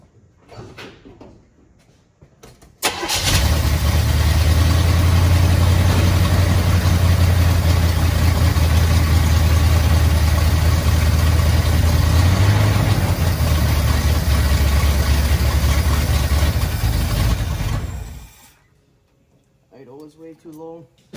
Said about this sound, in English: I'm gonna hop in it and start it up and see if it made any difference.